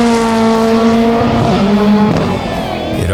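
A Subaru rallycross race car with a Boxer engine roars close by, its loud harmonic drone holding steady and then dropping in pitch as the engine note shifts and the car pulls away.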